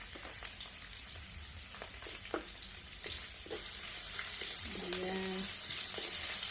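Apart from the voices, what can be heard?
ginger frying in a pan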